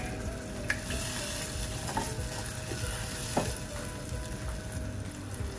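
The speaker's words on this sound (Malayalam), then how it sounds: "ഇനി ഈ വെള്ളം നന്നായിട്ട് തിളയ്ക്കട്ടെ" Water heating toward a boil in a pan of moru curry, a steady close bubbling sizzle with a few soft clinks and pops, no talking.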